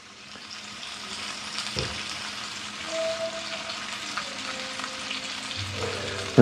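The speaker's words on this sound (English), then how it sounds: "I'm going to saute these down." Food sautés in a pan over heat, with a soft, steady sizzle that slowly builds, a few clinks and bumps of utensils, and a faint tonal hum in the background.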